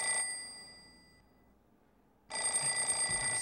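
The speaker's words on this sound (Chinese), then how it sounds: "是依萍打电话来了。" A telephone rings in a scene from a Chinese television drama. It gives one ring that fades out, then a short silence, then another loud, steady ring.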